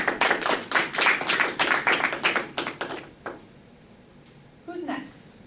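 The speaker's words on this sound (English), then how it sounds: "Round of applause" A small group claps for about three seconds in a room, a dense patter of hand claps that quickly tapers off, followed by a quiet pause and a brief voice.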